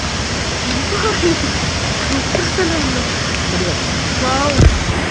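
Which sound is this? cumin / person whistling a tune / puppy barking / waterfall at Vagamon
waterfall at Vagamon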